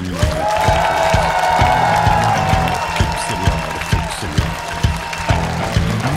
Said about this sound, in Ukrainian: Ваші оплески жартам, які читав Сергій Притула.